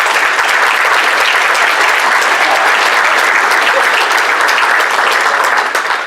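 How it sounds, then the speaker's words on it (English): An audience at a magic show breaks into loud, dense applause that stays steady and close for the whole stretch, with only faint crowd murmur underneath. "you need to give them an applause."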